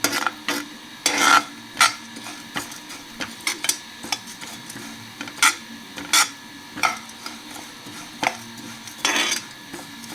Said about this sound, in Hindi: ये तीनों दाल को हम भून रहे हैं, ये भून जाएगा।